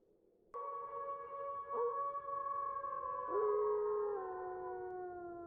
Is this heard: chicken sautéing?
no